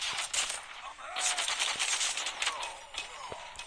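Bursts of rapid gunfire from the game Call of Duty Mobile crackle over a steady electronic background, with short pops and sweeping effects in quick succession.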